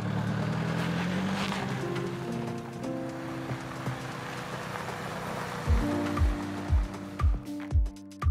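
Car driving through city rush-hour traffic in Iran: a low steady rumble of road and engine noise with a hiss over it, then a few soft rhythmic thumps near the end.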